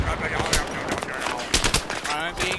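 Rapid gunfire bursts in Battlefield 3, close and loud, aimed at the player, with sharp repeated shots over a busy battle bed and a voice talking over it.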